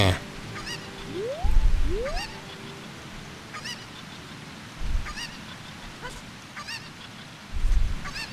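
Shrill clucks from a cucco chicken in The Legend of Zelda: Ocarina of Time repeat at a regular pace over background game music, and two quick rising swoops come early on.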